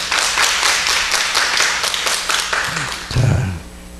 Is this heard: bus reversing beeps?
no